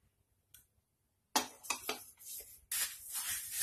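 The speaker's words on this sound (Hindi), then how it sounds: "राई के चटकने की आवाज आ रही है" Fennel and carom seeds roast in a pan for a red chilli pickle as mustard seeds crackle, giving sharp, irregular pops and spatters that start after a near-silent opening and then come in clustered bursts.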